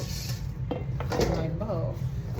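A bowl being handled in a home kitchen while cooking smothered potatoes, with a few light clinks and knocks of dishware under a low background hum and some talking.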